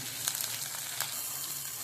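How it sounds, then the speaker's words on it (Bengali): Ginger garlic paste sizzles gently in a pan, a soft continuous frying hiss with a couple of brief crackles. "আদা রসুন বাটা দিয়ে হালকা একটু ভেজে নেব"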